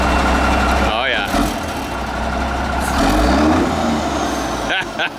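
Diesel truck with dual stacks revving loudly, a deep rumbling engine note that swells and holds close by, with people talking over it.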